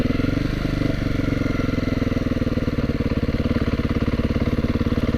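Engine of a 2022 Beta 430 RR-S dirt bike at low speed with light throttle, a steady close rhythmic thumping pulse that picks up slightly in pace, loud with no talk.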